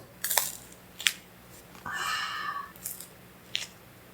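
Crisp crunching bites of straw-fire grilled food at a campsite, several short bursts and one longer crackly chew, close up with no talking.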